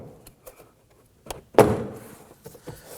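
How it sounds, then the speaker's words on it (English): A plastic retaining clip pops loose as a door panel is pulled from the door shell of a 2015-2024 Nissan Murano, one sharp snap after a few light taps and rustles close by. "gently pull out on the door panel, releasing the plastic buttons holding the door panel to the shell"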